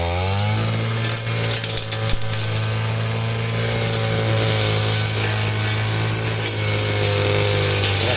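A powered cutter runs continuously and loudly through vegetation while clearing ground at a farm, its steady engine drone holding for the whole stretch with no talk over it.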